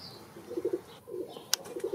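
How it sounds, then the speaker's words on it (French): Pigeons and turtle doves cooing in a breeder's aviary, soft repeated low coos in short clusters, fairly faint, with a brief sharp chirp midway and no talk. "Nous voilà maintenant chez les pigeons."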